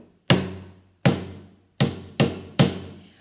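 A recycled object struck as a homemade percussion instrument gives five sharp, resonant taps. They are close and loud, with short decaying rings, and the spacing between them is uneven.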